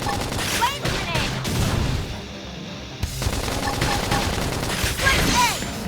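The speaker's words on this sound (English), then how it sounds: "Topple them with gunfire." Rapid gunfire bursts and explosions from combat in the video game Xenoblade Chronicles X Definitive Edition, dense and continuous with a short lull, mixed with game voices and effects.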